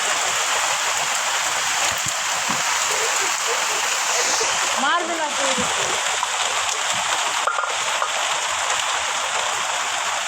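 Rain falls outdoors in a dense, steady patter and hiss that fills the whole stretch, with people talking briefly over it.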